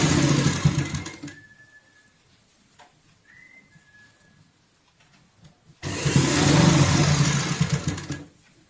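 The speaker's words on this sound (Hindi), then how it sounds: "फ्रिल बनाते समय इसी सिलाई के ऊपर सिलाई लगाते हैं" A sewing machine runs in two loud continuous bursts while stitching the frill of a homemade door mat, with a quiet pause between them broken only by faint thin tones.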